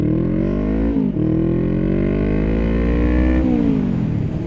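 A motorcycle engine revs hard and accelerates, a loud, close, rising whine that drops briefly at a gear shift and then climbs again.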